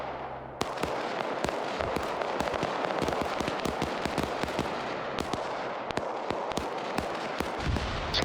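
A dense, loud barrage of video game explosions, including an AC-130 gunship: booming blasts and sharp cracks fire in quick succession over a constant rumbling roar, with no talking.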